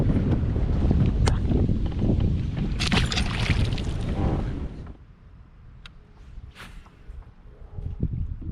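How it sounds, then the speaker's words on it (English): Strong wind buffets a boat on a lake during fishing, loud broadband roar and microphone buffeting for about five seconds, then easing to a quieter rush with a few sharp knocks and gusts. "The wind is crazy."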